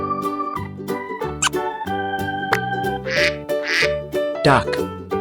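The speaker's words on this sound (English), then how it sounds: "Duck." A duck quacks several times in short, nasal bursts near the end, heard over light, bouncy background music in a farm-animal lesson for babies.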